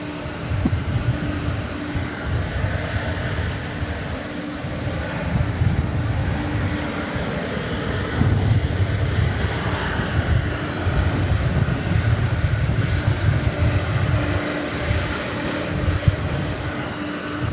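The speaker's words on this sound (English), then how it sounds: "Of planes being pushed back and taxiing and parked." Airplanes taxiing and being pushed back at DFW Airport at night, a continuous loud engine roar with a steady whine, swelling and easing over time without any talk.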